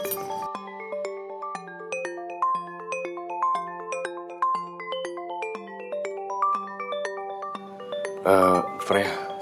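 A melodic phone ringtone plays a repeating chime-like tune for several seconds at moderate volume, then a voice speaks briefly at the end.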